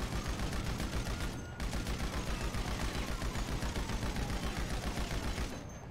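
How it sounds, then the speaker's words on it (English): Rapid, continuous automatic gunfire in the GTA Online video game, loud and dense for about six seconds with only a brief dip, with no voices over it. "Wow, you're taking a lot of bullets."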